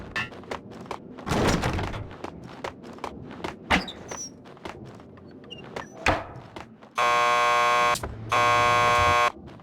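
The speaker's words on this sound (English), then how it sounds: "Just press the buzzer by the door." Two long, loud electric bursts from a door buzzer in Max Payne 2 come near the end, following scattered thuds, clicks and footsteps.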